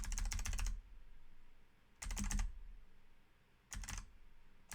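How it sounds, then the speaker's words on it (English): Arrow keys on a computer keyboard are tapped in three quick bursts of rapid clicks, separated by short pauses, close and clear with no talk. "Just moving the arrow keys a little bit at a time."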